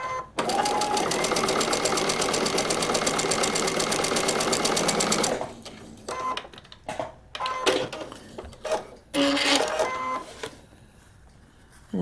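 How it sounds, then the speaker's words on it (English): A sewing machine stitches through a paper-pieced quilt block in one steady, loud run of rapid needle pulses for about five seconds, then stops, leaving a few short clicks and handling noises. "We're going to start stitching on the extended line, and we're going to stitch all the way through"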